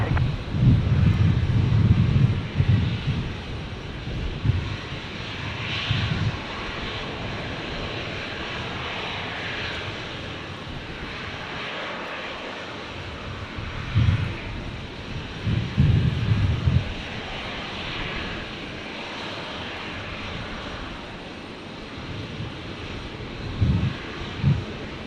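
Velocity airliner landing on runway 19 left at Brisbane International Airport, a sustained engine roar with gusty wind noise, swelling in several loud low surges over a long steady rumble heard from a distance, no voices.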